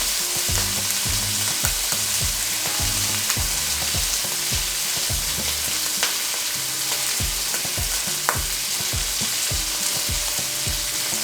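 Thick beef chops with fresh thyme sizzle loudly in a hot frying pan, a steady close frying hiss with repeated clinks and scrapes of stirring or turning, no voices.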